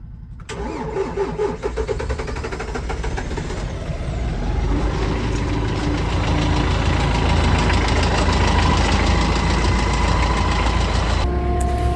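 A tractor engine cranks briefly in below-zero cold, catches and roars to life, then settles into a loud, steady idle with a rough mechanical chug.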